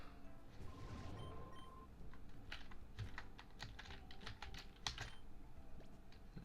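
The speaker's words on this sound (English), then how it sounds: "I'll try to keep my keyboard further away," Computer keyboard typing, quick irregular clicks in bursts from a loud keyboard nearby, heard alone without speech.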